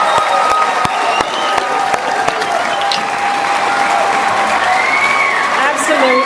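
Applause from the audience at a 40th anniversary celebration, sustained clapping and cheering from a large crowd, with voices heard over it.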